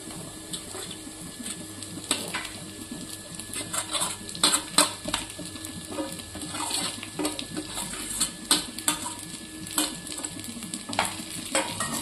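Soaked sabudana (tapioca pearls) goes into a hot pan and is stirred, giving a continuous close sizzle broken by frequent sharp clinks and scrapes of a spoon against the metal, with no voices.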